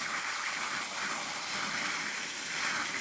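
Water gushing steadily from a garden hose into a plant container, a continuous close hiss and splash without pause.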